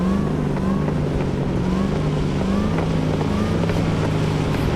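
Supercharged V8 hot rod in Cyberpunk 2077 revving under throttle, a loud, steady, gritty engine roar with repeated pitch swells and a faint supercharger whine, heard close without voices.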